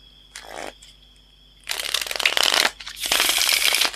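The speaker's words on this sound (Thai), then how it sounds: "คุณก็จะได้ท่าเท่ ๆ ในการกีดไพ่แบบนี้" A deck of playing cards is riffled by hand, giving a short flick, a pause, then two longer dense fluttering riffles, close and crisp, with no talking.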